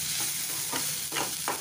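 Shredded cabbage and green chili fry in a pan for an Indian sabji, with a steady close sizzle broken by several scraping stir strokes as the mixture is tossed about.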